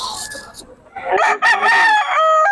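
A rooster crows close by at a cockfighting venue, one loud drawn-out crow rising after some softer clucking and background noise.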